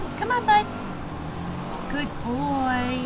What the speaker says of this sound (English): I'm really sorry for the noise. People be cutting their lawns.